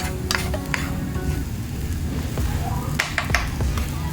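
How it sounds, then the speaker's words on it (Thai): Chopped fermented fish (pla ra) dry-fried in a pan, a low steady sizzle with sharp spatula clinks and scrapes scattered through, heard up close. "แล้วก็มาคั่วปลาร้าที่เราสับแล้วล่ะ"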